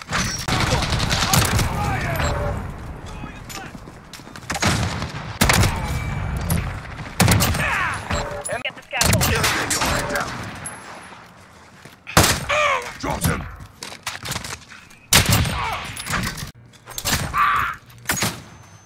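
Gunfire in a first-person shooter video game, with repeated sharp bursts and bangs in bunches, separated by brief lulls, mixed with game sound effects and some voice callouts.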